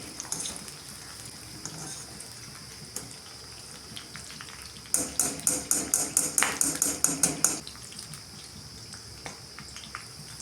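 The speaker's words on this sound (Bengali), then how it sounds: "ওই তেলে দিয়ে দেবো পেঁয়াজগুলো ক্যাপসিকামের মতো ভেজে নেবো আমি।" Onions sizzle and spit in hot oil in a home kitchen pan while a soy chunk dish is cooked, a steady close fry with a burst of louder crackling and stirring in the middle.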